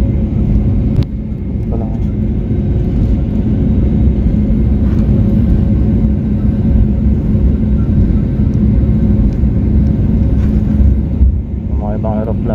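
Steady, loud low rumble of a Philippine Airlines airliner's engines during takeoff, heard from inside the cabin as a continuous drone, with a brief spoken remark near the end.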